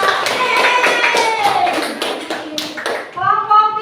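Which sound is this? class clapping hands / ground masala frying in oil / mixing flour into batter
class clapping hands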